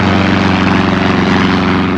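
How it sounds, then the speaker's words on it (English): A propeller plane drones steadily through mist over countryside between Hatfield and Welwyn outside London as it comes in to land, a loud, continuous engine hum with a constant throbbing tone. "A plane flying through the mist which shrouded the countryside between Hatfield and Welwyn, just outside London, and coming into land."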